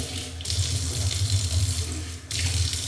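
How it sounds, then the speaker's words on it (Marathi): Water runs steadily from a tap into a sink, with brief pauses and splashes as someone rinses their face with cupped hands. The flow is close and moderately loud, with no talking. "गाई तोंडावर पाणी मारते"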